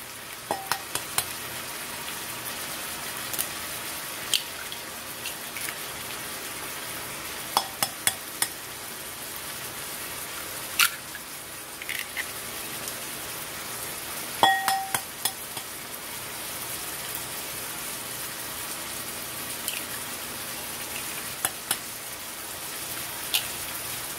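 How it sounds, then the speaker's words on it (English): Ground beef browning in a pan, a constant soft sizzle and crackle like light rain, broken by occasional sharp spatula scrapes and clicks, with no voices. "Brown up your ground beef."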